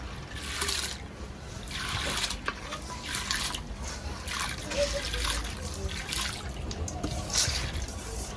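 Washed mung dal pours into water in a cooking pan, giving a continuous trickling and splashing wash of liquid that swells in bursts, close and moderately loud.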